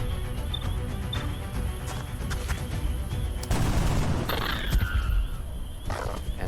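Gunfire from a sniper sounds in the XCOM: Enemy Within video game, with a sudden boom partway through over a murky game soundscape.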